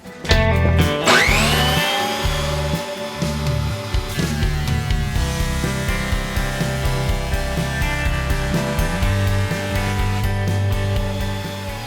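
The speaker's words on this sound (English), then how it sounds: "Let's run it through the thickness planer to make sure that both boards are exactly the same thickness." A thickness planer feeds wooden boards through with a loud, sustained motorized whine and drone. The pitch shifts as each pass starts and ends, with strong harmonic tones throughout.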